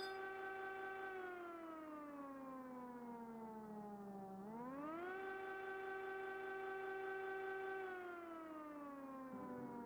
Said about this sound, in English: Did you hear that siren?